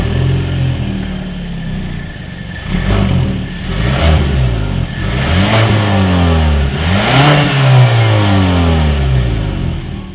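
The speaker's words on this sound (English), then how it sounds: "As always, here is that exhaust clip." A 2020 Kia Sportage SUV engine revs through its exhaust repeatedly, climbing and falling in pitch several times over a steady idle, loud and close, with no voices.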